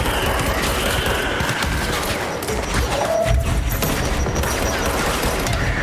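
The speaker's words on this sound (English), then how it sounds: "somebody's shooting grenades at me and I don't like it" Grenades burst amid heavy gunfire in the game Control: continuous rapid shooting and dull explosive thumps fill the scene at steady, loud intensity, with no pauses.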